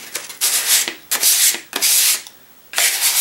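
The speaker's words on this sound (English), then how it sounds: "So I just took a sanding block, and this is 400 grit" Repeated rough rubbing strokes of a 400-grit sanding block, four bursts in an uneven back-and-forth rhythm with short pauses, close and fairly loud.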